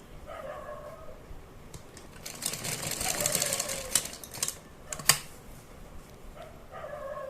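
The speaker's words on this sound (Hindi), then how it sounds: "इस तरह से उठा उठा के इसी लाइन पर हमें सिलाई लगानी है" A sewing machine stitches a collar neck seam in a short, close run of rapid mechanical whirring that swells and then stops, with a few sharp taps. Quiet room tone is heard before and after, with no talking.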